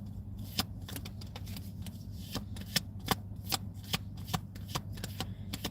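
Tarot cards shuffled in a series of sharp, crisp riffles and slaps, spaced irregularly over a steady low hum, with no talking.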